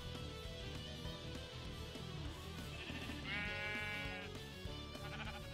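Sheep bleat in the video game Minecraft, a few short calls sounding over steady game music and background noise, with no talking.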